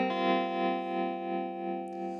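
A sustained electric guitar chord through a Chase Bliss Audio Gravitas analog tremolo pedal set to a triangle wave, with a smooth, regular pulsing swell in volume, rising and falling several times as it rings out.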